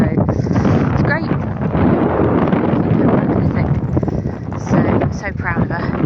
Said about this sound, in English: enjoying this windy weather